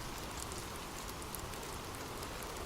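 Steady rain falls in an even, broadband wash with no distinct drops standing out, forming a continuous soft hiss at moderate level with no voices.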